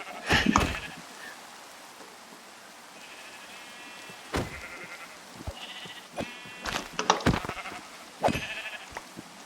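Sheep in the video game Minecraft bleat several times in short, scattered calls at moderate loudness, some nearer and some farther, with no talking.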